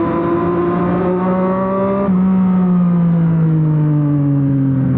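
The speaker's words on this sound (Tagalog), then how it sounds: "Hindi ko alam guys kung naririnig niyo ako kasi sobrang lakas ng exhaust na ito" A loud Vespa scooter exhaust drones steadily at close range, its pitch dipping and then shifting slightly partway through, with no voices over the constant engine note.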